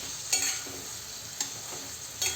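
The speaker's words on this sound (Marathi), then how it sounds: "आता आपण हे वांगे छान मसाल्यामध्ये परतून घेऊया" Eggplant being sautéed in spice masala in a pan makes a soft, low sizzle. Three sharper scraping stir strokes stand out at regular intervals, and no one speaks.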